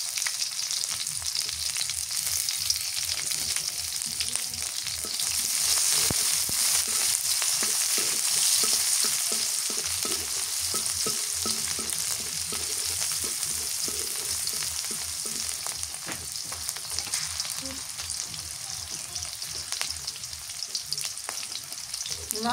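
Naga greens frying in a pan with garlic, green chili and salt: steady loud sizzling with frequent scraping stir strokes throughout, no voices.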